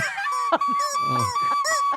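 A rubber chicken toy squawks close by in a honking, wavering wail, with short squeaky bursts along its length and no talking.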